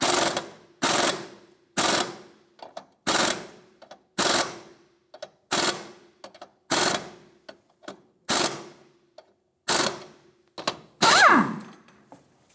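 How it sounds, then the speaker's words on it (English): An 18mm nut comes off an Infiniti G35 front suspension in a series of about a dozen sharp, evenly spaced bursts from an impact wrench, each a short rattling blast, with a final longer burst at the end. "Remove the 18mm nut."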